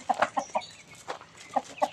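Chickens clucking nearby in a series of short, sharp bursts with brief pauses, at a temple in Chae Hom, Lampang, Thailand, where a rabbit, turtle and cats also roam.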